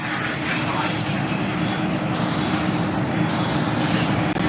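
Falcon 9 rocket launch for the Crew 5 Dragon mission, with the second stage firing: a steady, loud, broadband roar that holds constant throughout without letup.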